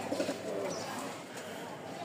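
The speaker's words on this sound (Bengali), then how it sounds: "এই দেখেন কবুতরগুলা" Pigeons of Lotan and Rajshahi breeds in a loft, soft low cooing murmurs near the start, faint and close, with a voice speaking quietly over them.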